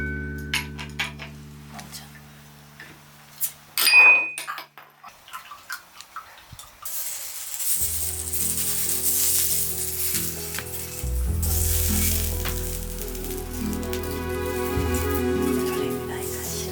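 Food sizzles on a heated pan at a table in a traditional Japanese ryokan, with vegetables set along the side; a few clinks and taps come first, then a loud, steady sizzle builds and continues close up.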